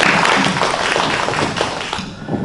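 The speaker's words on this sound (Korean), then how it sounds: "다시 한번 좀 큰 박수 좀 부탁드리겠습니다." A room full of people claps steadily at a policy forum, dense sustained applause that tapers off toward the end.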